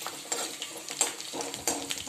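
Chopped garlic and green chillies frying in a tempering for tiffin vegetables give a soft, steady sizzle, broken by a few louder bursts as the spoon stirs and scrapes the pan.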